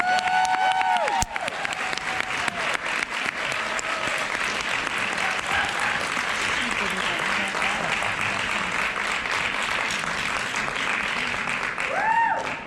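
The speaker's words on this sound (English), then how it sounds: "Let's give another applause for Kerri Birkley." A crowd at a Young Living On the Grow Tour event applauds and cheers for speaker Kerri Birkley, a loud sustained wave of clapping with whoops, swelling again near the end, while a voice speaks briefly at the start.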